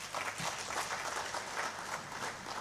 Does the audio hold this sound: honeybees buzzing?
no